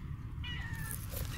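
A cat meows loudly and close over steady outdoor background noise in a park, one drawn-out plaintive call.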